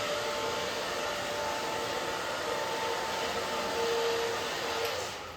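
A hair dryer blows steadily on long, thick hair, a loud, close, continuous whooshing roar that holds even throughout and eases off slightly at the end, with no voices.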